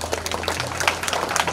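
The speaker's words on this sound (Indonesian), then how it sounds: "Tepuk tangan untuk kelas 6" Brief, steady applause from a crowd at a school graduation ceremony honouring the sixth-grade class, a dense patter of clapping with no break.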